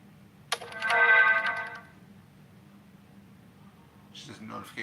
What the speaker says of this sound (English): Just a notification that popped on my phone.